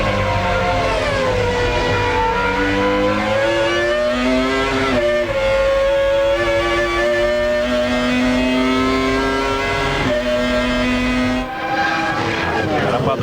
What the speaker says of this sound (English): On the rev limiter there briefly.